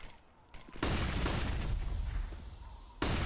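Flashbang grenades popping in a CS:GO round, sharp bursts at the start and end with a loud, sustained blast of noise between, close and harsh, with no talk.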